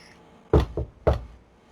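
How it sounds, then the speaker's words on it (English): Three sharp knocks on a door, two close together then a third after a short gap, crisp and close against a quiet room. "I'm going to knock on the door."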